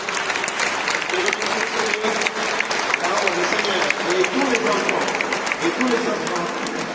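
A large audience in a cathedral claps loudly and continuously, sustained applause with scattered cheers and voices mixed in throughout.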